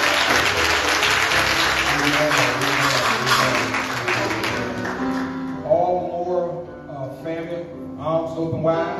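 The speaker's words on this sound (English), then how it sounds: "Let's give God a hand clap of praise." A congregation at a Baptist church Women's Day service claps hands in praise, with dense, loud applause filling the first half before fading under voices and music.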